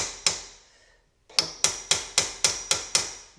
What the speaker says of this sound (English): finishing off, hammering that down